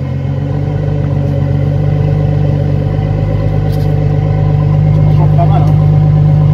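A Ford Mustang 4.0 V6 engine starts and rumbles steadily at a low, throaty idle, loud and close, holding an even drone throughout.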